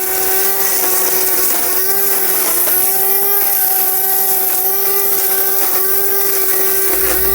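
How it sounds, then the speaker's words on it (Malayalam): A light-duty electric brush cutter trimming grass and cutting plant leaves, with a loud, high-pitched whining motor whose pitch wavers slightly as the line meets vegetation, running continuously at close range without speech. "അപ്പോൾ നമ്മുടെ പുല്ല് കട്ട് ചെയ്യണ മെഷീൻ നല്ല പവർഫുള്ള് സംഭവമാണ്."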